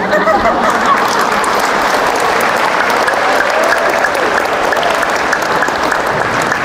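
A church congregation claps steadily during a sermon, a thick, even wash of applause held at the same loudness throughout with no clear talk over it.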